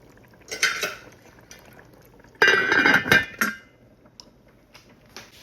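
A metal lid is set back onto a pot of Jamaican curried goat on the stove, giving two bright clattering clinks of metal on metal, the second longer and louder, followed by a few faint small knocks in a quiet kitchen.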